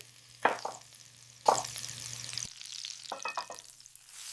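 Steak sizzling in a pan while basted with butter, rosemary and garlic: steady frying hiss broken by sharp bursts as spoonfuls of hot butter are poured over, plus a few soft scraping clatters, close up.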